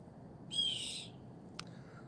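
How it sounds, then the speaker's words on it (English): A bird calling at night outdoors, one raspy screech-like call followed by a short sharp chirp, fairly close over a quiet low background hum. "And that bird just won't shut up, will it?"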